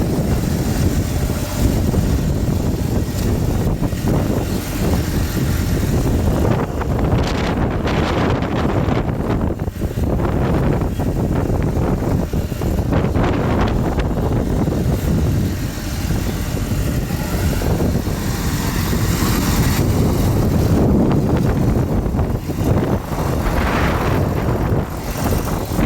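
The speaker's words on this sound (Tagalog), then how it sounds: "Grabe lakas ang hangin." Strong typhoon wind buffets the microphone in a steady, loud roar with gusty surges throughout, no talking, during Typhoon Inday with rain.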